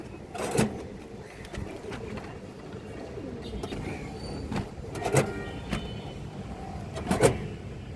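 Pigeons coo in soft repeated bursts at a pigeon farm, with a constant low background rumble between the calls.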